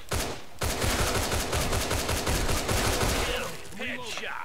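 Rapid bursts of gunfire from a basic small sidearm in the shooter game Line of Sight, loud and dense for several seconds before tapering off into quieter game effects.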